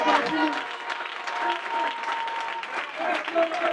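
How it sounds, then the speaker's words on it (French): A church congregation claps and cheers in praise during a pastoral visit, with a sustained wave of applause mixed with voices and shouts filling the room. "Est-ce qu'on peut acclamer pour le Seigneur?"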